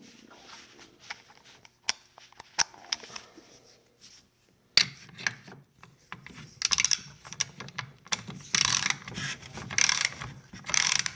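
Mastercraft micro head ratchet with a fine tooth count, clicking in close, quick bursts of tiny dense clicks, a few sparse ticks first and then faster, louder ratcheting runs, with no talking.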